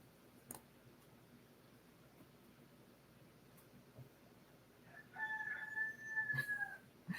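A farm rooster crows once in a drawn-out call at moderate distance after several seconds of quiet background, with a few faint clucks and soft knocks around it.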